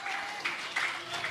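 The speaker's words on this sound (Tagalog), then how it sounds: "Palakpan po natin yung mga senators natin na dumating ngayon." Audience applause breaks out for arriving senators at a crowded event, a steady wash of clapping that swells in brief bursts over a low murmur of voices.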